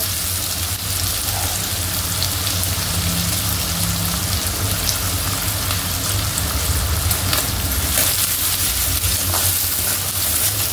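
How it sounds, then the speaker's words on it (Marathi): Capsicum and other vegetables sauté in hot oil for chicken Schezwan fried rice, a loud, dense, continuous sizzle close up, with occasional stirring scrapes and no talking. "भाज्या चांगल्या परतून घ्यायच्या"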